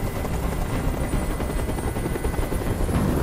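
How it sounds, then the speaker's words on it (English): A helicopter in a video game hovers overhead, its rotor chopping in a dense, steady, loud throb that fills the whole short stretch without pause. "Tell that helicopter to get out of here!"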